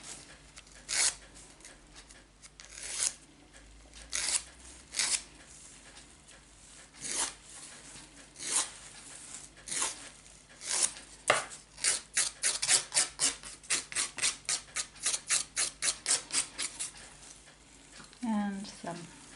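A nail file rasping across fingernails during a basic manicure: scattered single strokes at first, then a fast run of quick, even back-and-forth strokes, close and fairly quiet, with a voice speaking in between.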